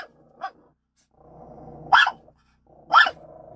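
A dog growls low and gives three sharp barks, the last two louder and spaced about a second apart, close by with no talking.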